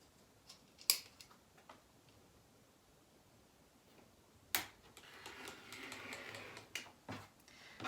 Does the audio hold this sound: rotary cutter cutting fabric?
yes